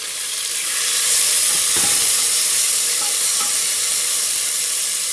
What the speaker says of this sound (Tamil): இப்போ இதில் இந்த தக்காளியும் நாங்கள் போட்டுக்கலாம்.